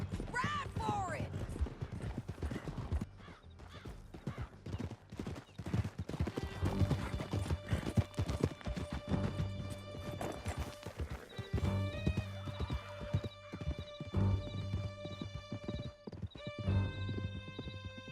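Horses galloping in Red Dead Redemption 2, with steady hoofbeats, a whinny near the start, and a game music score rising in the background, with voices shouting over the ride.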